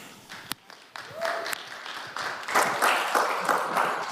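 At a public community forum on cannabis, scattered hand claps start a few at a time and then build into moderate applause from the audience, with a voice briefly heard near the start.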